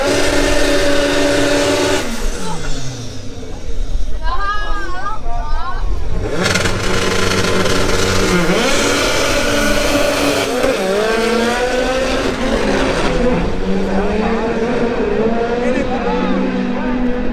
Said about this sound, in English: This Honda does some good burnouts.